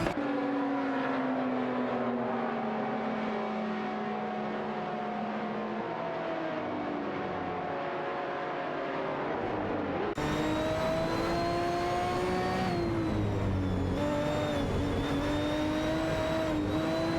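Racing cars in a video game, a Jaguar XKR GT3 and a Cupra GT among them, scream continuously at high revs, with engine pitch rising and falling through gear changes and a sharp shift to a closer, brighter car at the midpoint.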